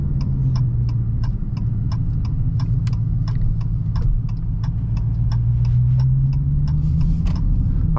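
Dodge Challenger Hellcat driving, a steady loud engine drone with a slowly rising and falling pitch as it pulls through the gears, accompanied by a regular series of faint ticking clicks throughout.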